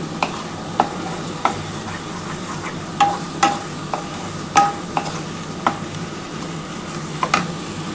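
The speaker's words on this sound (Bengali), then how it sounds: "খুব ভালোভাবে কিন্তু আমি লাউ পাতাটা পেঁয়াজের সাথে কষিয়ে নিয়েছি" Bottle gourd leaves frying with onion in a pan, a steady sizzle under regular, evenly spaced clacks of a spatula stirring the leaves, close and fairly loud, with no talking.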